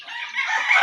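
Chickens on a backyard farm, including a laying hen and a rooster, give a close, bright run of clucking and crowing-like calls that rise in strength through the short stretch.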